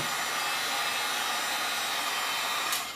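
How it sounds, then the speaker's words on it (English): A handheld heat gun blows hot air in a steady, close, unbroken rush that fades slightly at the end, with no voices present. "This is a heat gun, and so it gets really hot, so it won't take very long."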